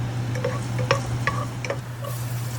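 Garlic hits hot oil in a small pan with a soft, steady sizzle, punctuated by a few light ticks and clinks from a stirring utensil, close and moderately loud over a low steady hum.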